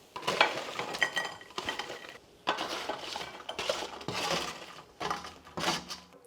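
Carrots sizzle in a hot roasting tin while utensils scrape and clink against metal in several short bursts, close and moderately loud.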